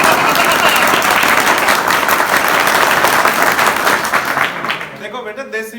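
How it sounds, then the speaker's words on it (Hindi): A crowd of students at a motivational laughter session claps loudly and continuously, the applause thinning out and fading near the end. "तो बजाओ ताली देसी।"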